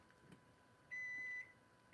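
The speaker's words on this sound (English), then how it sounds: "That was the timer for some beans going in a pressure cooker" A kitchen timer for beans in a pressure cooker gives a single sustained electronic beep, clear and fairly close over a quiet room.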